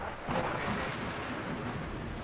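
Rain hisses steadily in the video game Etched Memories while a rolling thunder rumble swells early and lingers, a broad, fairly close wash of storm noise without voices.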